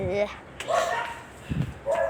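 Several dogs bark and yip in short bursts, fairly close, with a whimpering tone between barks.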